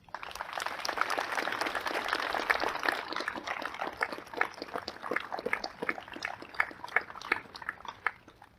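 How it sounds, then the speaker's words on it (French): A ceremony audience at the Carentan marsh monument in Normandy applauds veterans, dense clapping that thins into scattered, sharper claps toward the end. "nous vous applaudissons bien fort"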